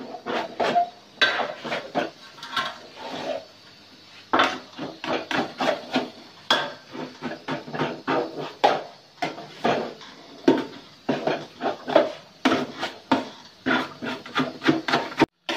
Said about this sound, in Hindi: इसको मुझे 20 मिनट हो गया मुझे इसके अंदर चम्मच चलाते हुए